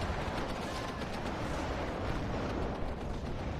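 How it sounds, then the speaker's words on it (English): In the video game WARNO, a Sheridan tank fires a Shillelagh ATGM amid a dense, continuous wash of battlefield gunfire and explosions, loud throughout with no speech. "Firing the Shillelagh ATGM."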